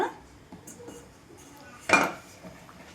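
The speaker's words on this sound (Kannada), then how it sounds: "ನೋಡಿಪ್ಪ ಮಿಕ್ಸಿ ಜಾರು ಖಾರ ಎಲ್ಲ ಕ್ಲೀನ್ ಮಾಡಿಕೊಂಡು ನೀರು ಹೆಚ್ಚಿಸ್ಕೊಳ್ಳಿ ಸ್ವಲ್ಪ" A mixer jar emptied of ground chilli spice paste gives one sharp clatter partway through, then a softer knock, while preparing a bamboo shoot sambar in a quiet kitchen.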